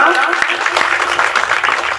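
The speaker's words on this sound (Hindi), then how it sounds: "अब तो सबने ताली बजाई" An audience claps steadily in a dense, sustained wash of applause at a Hindi Ramayana storytelling performance, with a voice carrying over it, fairly loud throughout.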